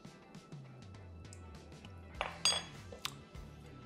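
Cooking pot of Roman-style artichokes being checked, with quiet clinks and knocks of a lid and utensils against the pot, a few sharper metallic hits scattered over a soft low bubbling background.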